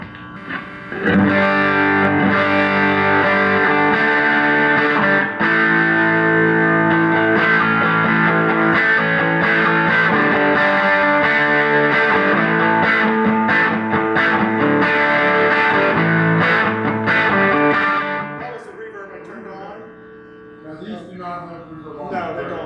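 A heavily overdriven electric guitar through a vintage Vox AC30 amp with the channel wide open plays loud, sustained distorted chords for a long stretch, then drops to quieter picked notes near the end.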